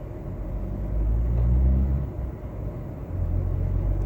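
A car climbs the spiral ramp of a multi-storey parking garage, its engine a steady low rumble that swells and eases slightly as it drives up, heard alone without talk.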